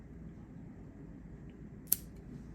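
Pruning shears snip a Portulacaria afra branch once, a single sharp, close click in an otherwise quiet setting with faint background hum.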